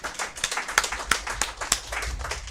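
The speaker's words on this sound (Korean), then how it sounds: "우리 모두 당 대표님께 힘내시라는 의미에서 큰 박수 부탁드리겠습니다" A modest crowd at a party leadership meeting claps for the party leader, distinct individual hand claps landing in an uneven flurry, fairly quiet and near.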